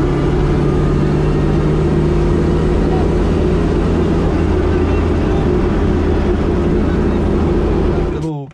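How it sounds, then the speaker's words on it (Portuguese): A loud, droning turbocharged Chevrolet Chevette engine rumbles steadily from inside the car, constant and heavy, ending abruptly. "o barulho do carro tá alto"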